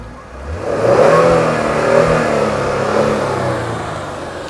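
A Genesis G70 3.3T engine revs and holds, its exhaust note rising into a droning growl, then easing slightly while staying loud and close.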